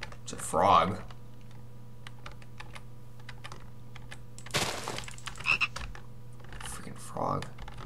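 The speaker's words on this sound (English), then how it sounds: "It's a frog." Frog croaking from a giant frog in Minecraft with the Orespawn mod, a few short croaks in separate bursts over keyboard typing and clicks, with faint talk in the background.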